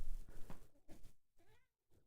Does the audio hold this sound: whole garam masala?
no